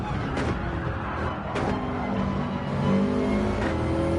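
A Subaru WRX engine in a racing game on the Brands Hatch short course, holding a steady drone that swells into revving, close and continuous, with no talking.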